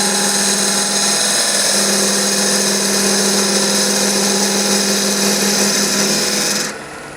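A wood lathe spins a peppermill blank with a loud, steady, high whine and constant cutting hiss, then cuts off abruptly near the end.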